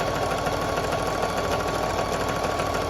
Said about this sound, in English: this is my happy time to sew a rug round and round